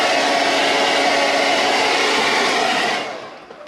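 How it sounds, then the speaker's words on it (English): A hair dryer blows hot air onto carbon trim for a Subaru WRX, a loud steady whirring rush held close for about three seconds before switching off and fading. "is hit it with a hair dryer"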